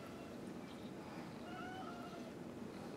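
A faint, distant meow, drawn out and thin, rises out of a steady low hiss of room noise.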